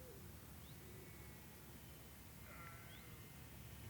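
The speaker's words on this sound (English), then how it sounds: "Can hear the sheep enjoyed it as well." Sheep bleat faintly a few times in the distance beside a golf course during a professional tour event, over steady outdoor wind and background noise.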